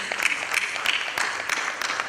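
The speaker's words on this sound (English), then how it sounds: "Huge round of applause, ladies and gentlemen." Applause from an audience at a PechaKucha night at a marketing technology conference, soft and fairly distant, with individual sharp claps standing out over a continuous low patter.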